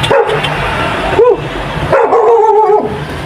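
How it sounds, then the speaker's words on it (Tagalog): A dog barks and yips sharply at close range outdoors in a noisy residential setting, a few short loud calls over a steady background hum. "Lagi na lang may aso eh."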